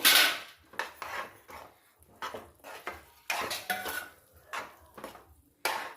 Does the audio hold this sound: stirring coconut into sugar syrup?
yes